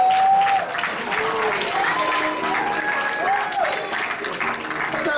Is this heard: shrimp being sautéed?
no